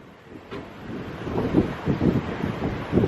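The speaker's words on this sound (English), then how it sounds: "it's so windy" Steady wind buffets the microphone with a low rumbling roar in Wellington, New Zealand, gusting in uneven surges throughout.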